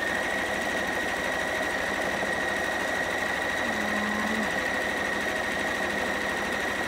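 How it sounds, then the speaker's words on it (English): Sewing machine stitching fabric along an edge guide, a rapid steady mechanical whir with a fast regular needle chatter, close and continuous with no voices. "I'm just using this edge as my guide to the edge of the fabric."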